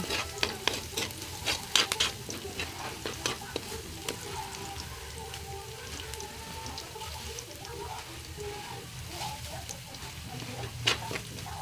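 Garlic fries and browns in a pan for pork menudo with a soft, steady sizzle, broken by repeated scraping and tapping of a spatula stirring it.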